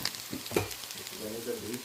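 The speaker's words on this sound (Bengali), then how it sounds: "আমার মৃগেল মাছের কোপ্তা ভাজা হচ্ছে" Mrigal fish kofta frying in a pan, a soft, steady sizzle with a few brief louder pops and crackles near the start, heard alone.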